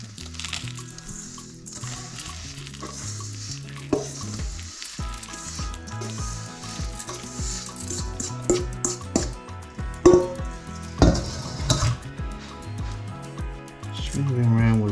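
Spoon pressing and spreading crushed biscuit mix into a cheesecake base tin, soft scraping and squishing strokes that grow louder and more frequent, set against background music.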